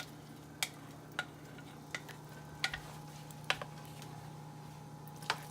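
Milk and cocoa stirred into half-cooked rice in a pot for champorado, with a soft, steady simmering sizzle broken by a few sharp clinks of the spoon against the pot.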